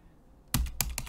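Close computer keyboard keystrokes, three or four crisp clacks in quick succession after a brief quiet, as someone enters a custom function in Google Sheets.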